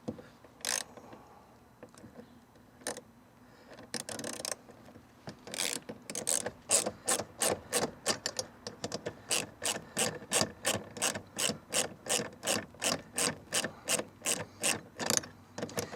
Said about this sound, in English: I find it a lot safer and a lot better just to go ahead and use a ratchet